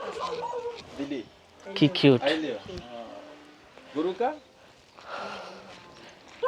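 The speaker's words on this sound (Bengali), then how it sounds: "আর এখানে আর একটা কুকুর বাইদা রাখছে যে কিনা চিল্লাফাল্লা করতেছে অলরেডি" A dog tied up at a local home where puppies are kept barks and yelps in short, loud bursts, mixed in with people talking nearby.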